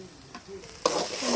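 Duck pieces frying with salt and turmeric are stirred in a pan, giving scraping strokes with a steady sizzle that grows louder toward the end of the short burst.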